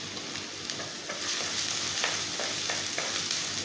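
Sliced shallots and garlic sizzle in hot oil at the start of a Kerala-style tuna fish curry, a close, even crackling hiss with a few soft stirring taps and no voices.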